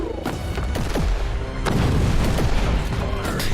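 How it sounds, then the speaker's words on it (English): Small explosive-shot blasts in the Warhammer 40,000: Inquisitor video game, several sharp bursts and booms going off in quick succession amid steady loud combat noise, with no talking. "the little explosions of the explosive shot"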